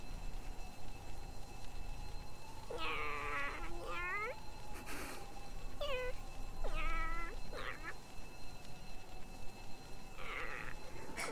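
A cat meows several times, drawn-out plaintive calls spaced across the stretch, fairly close over a steady background hum, with no one talking.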